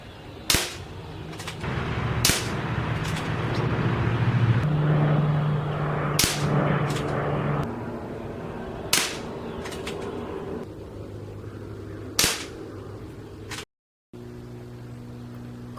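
A Crosman M4-177 variable pump air rifle fires pellets in a series of sharp, close cracks spaced a few seconds apart, with quieter handling noise between the shots.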